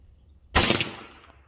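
A single sharp air rifle shot from a Hatsan or Gamo .22 firing a 26-grain Predator Polymag pellet, close and loud, cracking suddenly and then tailing off over about a second with no voices.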